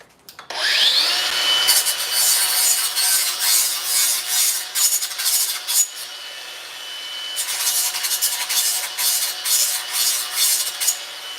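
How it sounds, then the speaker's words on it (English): A power sander works a wooden wedge in a garage. It gives a loud, steady rasping hum that rises and falls in pulses, pauses briefly, then resumes. "I suppose I could adjust one maybe with the old sander here."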